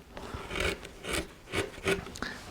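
A carving tool tears across a wood surface while carving a coastal relief, giving four or five short, close rasping scrapes in an uneven rhythm with brief pauses between them.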